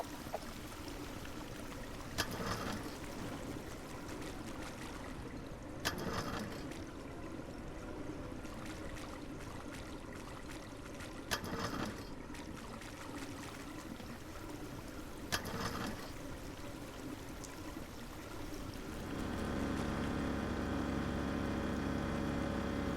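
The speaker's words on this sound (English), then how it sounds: "Look at all that water not going in the drain." Water from a hose pours steadily and spreads across the ground around a drain, a continuous rushing wash that grows louder and fuller near the end, with a few brief thumps along the way.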